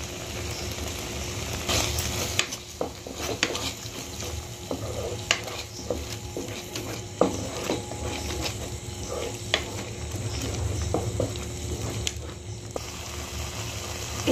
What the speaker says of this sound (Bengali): এটা গ্রেভিটা ফুটছে